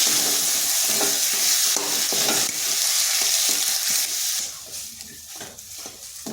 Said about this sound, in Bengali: এরপর এগুলো ভালোভাবে মিশিয়ে নিচ্ছি।